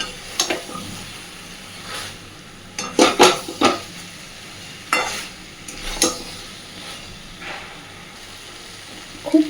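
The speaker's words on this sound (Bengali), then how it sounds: "সয়াবিনের এই রান্নাটাতেও আমরা একটু সময় নিয়ে মশলার সাথে সব কিছুকে কষতে থাকবো" Soybean chunks fry with spices in a pan, a low sizzle under repeated loud scrapes and clinks of a spoon stirring against the metal, coming in uneven bursts.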